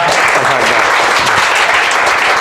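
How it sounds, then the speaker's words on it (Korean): A crowd claps loudly and steadily at a talk concert with a young farmer, a thick continuous burst of applause heard up close throughout. "박수 한번 해주세요"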